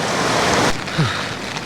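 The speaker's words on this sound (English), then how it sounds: "So the rain's still on." Heavy rain drums steadily on a tent pitched by a river, a dense, loud wash of noise that eases slightly partway through.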